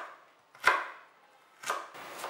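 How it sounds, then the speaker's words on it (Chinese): A knife chops carrot into small dice on a board, three separate close sharp strikes with short pauses between them, no talking. "胡萝卜先切片再切条"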